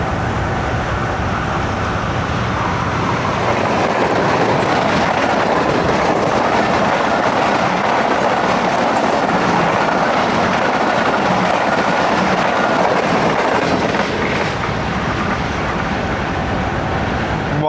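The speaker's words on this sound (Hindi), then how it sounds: "9:08 पे 46 डाउन पाकिस्तान एक्सप्रेस PHA 20 के साथ।" A Pakistan Express passenger train hauled by locomotive PHA 20 roars past close by, with a loud, steady rumble and rushing wind, then begins to fade.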